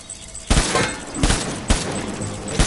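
Gunfire in the video game Death Stranding: loud, close bursts of automatic shots in several clusters, each a sharp crack trailing into echoing rattle.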